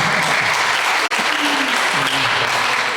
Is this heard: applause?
yes